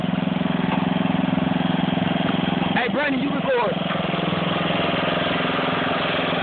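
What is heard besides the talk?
tractor engine idling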